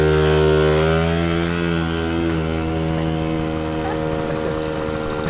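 A 45 km/h moped engine revs loudly and steadily close by, a buzzing motor whine that slowly eases off over several seconds.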